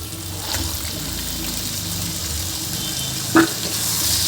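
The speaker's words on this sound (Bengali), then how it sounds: "এখন আমি মাংসগুলোকে মশলার ভিতরে দিয়ে দেবো।" Beef goes into hot oil and spices in a pan and fries with a steady close sizzle throughout, with one brief clink of a utensil near the end.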